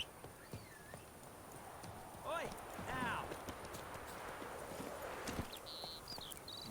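Clip-clop of a horse's hooves trotting in The Witcher 3 video game, steady and moderately close under game ambience, with a brief whinny-like tone midway and speech-like sounds around it.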